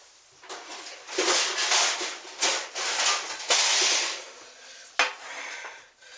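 A shepherd's pie baking dish is set onto a metal sheet pan, making several clanks and scrapes of dish on metal, fairly close and moderately loud, with a final sharp knock and short quiet gaps between.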